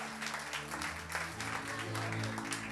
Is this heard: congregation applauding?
yes